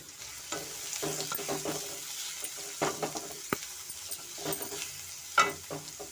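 Onions frying in a pan for an egg chapati fry, a steady close sizzle with repeated scraping stirs and brief clanks of the spatula, no voices.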